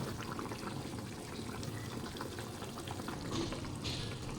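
Fish curry gravy bubbling steadily in a pot as eggs are added, a continuous soft boil and sizzle at low volume with no voices.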